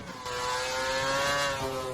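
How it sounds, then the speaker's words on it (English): A V8 Formula 1 car engine in a racing video game, a loud, steady high-pitched whine that climbs slightly as it revs, alone without talk. "You'll miss these sounds of the V8s"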